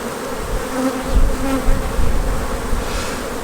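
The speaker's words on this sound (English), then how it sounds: "these bees are working really hard" Honeybees buzz steadily at an open hive during an inspection of a brood frame, a dense, continuous swarm drone that holds close and even throughout.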